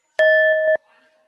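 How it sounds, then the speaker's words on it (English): A single ring of a hand bell used to signal the start of a classroom activity, a clear, bright tone that sustains briefly and then cuts off, close and loud. "for this activity, I'll be using this bell."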